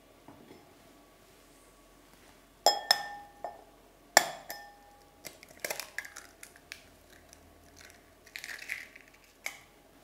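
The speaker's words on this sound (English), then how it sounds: "break the egg into the glass you received" A few sharp clinks of glass, then a crack as an egg breaks into a glass, softer scattered tapping and clattering, with quiet pauses between.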